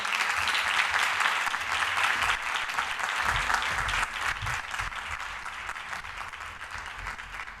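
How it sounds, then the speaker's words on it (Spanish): Audience in a museum auditorium applauding a children's carnival troupe at a Málaga carnival opening event, steady dense clapping that holds throughout and eases slightly toward the end. "Vamos a darle un fuerte aplauso a la comparsa infantil que se llama Este mundo loco de Paqui Prieto."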